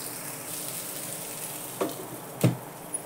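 Stuffed okra cooks under a lid over low heat, giving a soft, even sizzle. Two or three brief clatters break through near the end.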